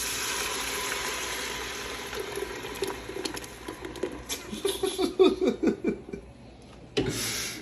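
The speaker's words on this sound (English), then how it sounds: "Now we're gonna add our green juice to it." Green herb juice pours into browned meat in a pot for Moroccan harira, with a steady sizzle and hiss that gives way to bubbling, rhythmic gurgles as the liquid hits the hot pan, close up.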